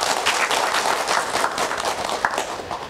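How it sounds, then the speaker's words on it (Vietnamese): An audience at a televised early-spring provincial gathering in Vĩnh Long gives warm applause, dense overlapping claps with distinct sharper hits, lively and sustained at close range. "Chúng ta dành một tràng pháo tay thật nồng nhiệt để thay lời chào mừng."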